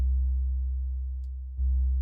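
A steady low-pitched sine tone from a minimalist modular synth sequence drones alone, dipping briefly near the end before resuming, with no voices.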